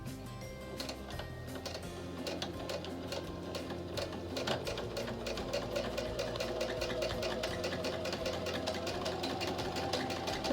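A sewing machine stitches quilt fabric in a steady, continuous run of rapid needle ticks close by, holding an even pace throughout with no talking.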